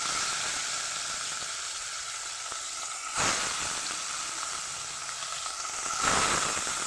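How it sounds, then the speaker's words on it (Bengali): Fish seasoned with salt and turmeric fry in hot mustard oil in a kadai, a steady close sizzle and hiss with two brief louder bursts of spitting. "সর্ষের তেল দিয়েছি মাছগুলো ভাজার জন্য"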